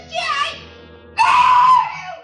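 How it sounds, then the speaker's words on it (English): A sharp, high scream bursts out in a tense moment of a Michael Shayne detective radio drama, loud and close after a brief earlier cry, with no talk over it. "The scream pulled Groves' eyes off me just long enough."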